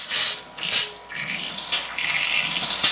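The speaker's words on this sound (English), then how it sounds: "go around and basically open up the faucets. You want to blow hot and cold out." Water gushes steadily from opened hot and cold faucets in a summer home being drained for winter, a close, continuous hissing flow that surges and shifts in strength with no talking.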